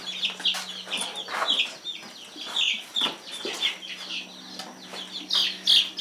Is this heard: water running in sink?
no